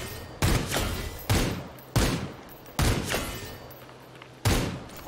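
Video game gunfire at an enemy, five or six loud, sharp shots spaced roughly a second apart, each with a booming tail that fades before the next.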